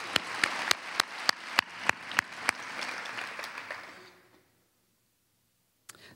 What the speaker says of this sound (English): Yeah, we should clap for them.